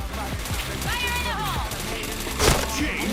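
Gunfire in the shooter game Point Blank: scattered shots and impacts mixed with game sounds and a voice, with one sharper, louder burst near the end.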